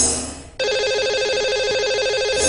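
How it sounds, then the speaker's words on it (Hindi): An outgoing call is placed from a live Hindi astrology broadcast, and after a brief dip a loud, steady electronic ringing tone starts and holds unbroken for about two seconds. "तो इन्हें अभी हम लगाएंगे कॉल।"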